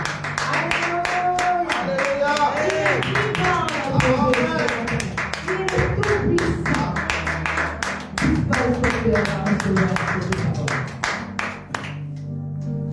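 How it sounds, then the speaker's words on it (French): A church congregation claps loudly and continuously while voices sing and call out with fervent exclamations over the rhythmic, hand-driven clatter, which fades briefly near the end. "Nous allons encore applaudir plus fort"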